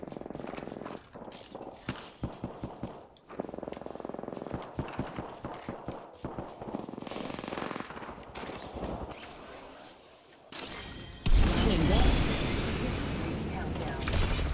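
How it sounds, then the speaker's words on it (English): Gunfire in the battle royale game Apex Legends, rapid bursts of shots and mechanical clatter coming in uneven volleys, followed by a louder sustained rush of noise, with people talking throughout. "Taking fire."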